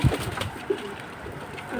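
Pigeons, both females, give a few low soft coos close by, with brief thumps and rustles around them and a quiet room behind.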